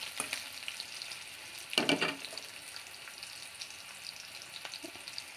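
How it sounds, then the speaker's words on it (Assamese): Steady crackling sizzle of onions frying in oil, with a louder burst of stirring or scraping partway through; no voices. "আপোনালোকে পিঁয়াজ ভাজিব হয়তো জানেই"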